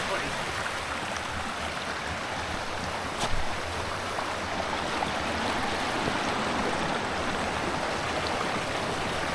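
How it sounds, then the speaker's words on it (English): River water rushing over rocks at a crossing in the Derwent Valley, a constant close splashing flow with a brief knock partway through and faint voices underneath. "I've made it across that river, and all the rocks that you put your feet on are underwater"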